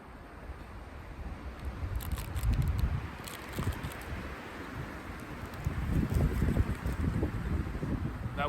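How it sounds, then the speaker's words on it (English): Strong winter wind gusts through snowy trees at a cold forest campsite, a steady roaring rush that swells loudly around the middle and again near the end, with light rustling and faint ticking clicks. "That wind's really picking up."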